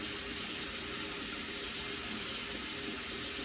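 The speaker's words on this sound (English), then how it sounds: "Wet my fingers." A bathroom tap runs in a steady, even stream for a few seconds, close by and moderately quiet, with no talking over it.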